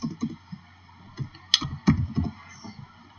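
Brief bursts of typing on a computer keyboard while working in Inkscape, a handful of close, dry key clicks in short irregular clusters with a faint background hum, no talking.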